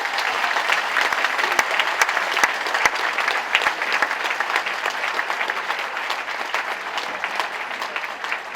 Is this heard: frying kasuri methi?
no